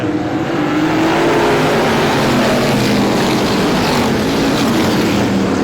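Race cars accelerating together on a speedway at the green flag, a loud continuous engine roar with rising pitch that fills the whole stretch without a break.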